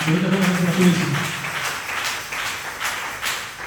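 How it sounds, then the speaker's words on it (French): Congregation applauding at a Tuesday church service, a dense wash of clapping that fills the room and holds steady, with a voice speaking over the opening second. "Applaudissez pour le Seigneur Jésus"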